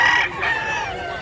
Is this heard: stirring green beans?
no